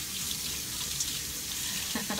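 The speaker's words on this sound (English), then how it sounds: "I'm gonna wash my hands up while I talk to you guys" Hands washed under a running kitchen sink faucet, a steady close rush of water with a brief splashing change near the end and no voices.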